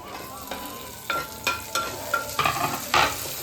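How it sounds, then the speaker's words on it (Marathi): Tomato tossed onto onion that has been frying in a pan, a steady sizzle broken by several stirring scrapes and clatters that come faster toward the end, close up with no talk. "आता याच्यामध्ये टोमॅटो टाकते."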